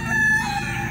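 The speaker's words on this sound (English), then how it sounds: "So, okay, there's one that crowed." A Splash Silkie rooster gives a single short, fairly soft crow, heard alone and close by.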